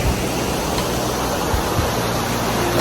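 The St. Anne waterfall and river rush in a steady, dense roar of falling and churning water, close and loud with no voices.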